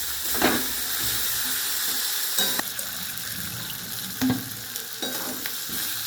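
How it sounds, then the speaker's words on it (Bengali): Spice paste being sautéed in oil in a pan for a Bengali fish piyaji dish with potatoes, a steady close sizzle broken by a few louder spatula scrapes and stirs, with no talking. "এরপরে আমি দেবো এই যে গুলে রাখা মশলাটা, সেটা দিয়ে আবারও কষাবো"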